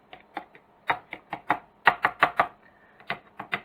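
Egg omelette mixture with salt is mixed briskly, a quick series of sharp taps and knocks in an uneven rhythm, close and fairly faint with no talk.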